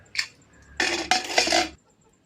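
Metal lid set onto a pressure cooker pot, a short clatter of clanks and scraping contact close by, then quiet.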